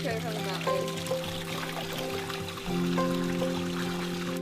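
Mountain spring water is poured out in rural Japan, a soft trickling pour running under ongoing conversation, with steady tonal hum in the background.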